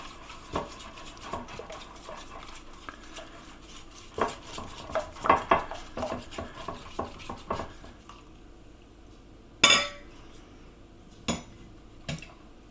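A whisk knocks and scrapes through savoury vegetarian pancake batter in a bowl, giving irregular clinks and clatters in bursts. The sound is quiet overall, with a few sharper knocks near the end.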